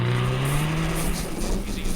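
A rally car at the Perce-Neige Maniwaki 2008 winter rally drives over a snowbank, its engine climbing in pitch with revving and a broad rushing roar, fairly close and steady throughout the two seconds.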